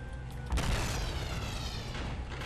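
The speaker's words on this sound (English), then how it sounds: "Man, those explosions are way too big for their own good." A loud, sudden explosion boom in the shooter game 007 Nightfire, with a rumbling blast tail over continuous game sound and no voice.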